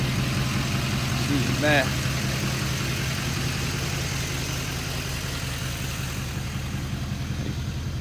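A tuned LML diesel truck engine idles steadily with a low, even rumble, close and continuous throughout, while a voice briefly speaks over it.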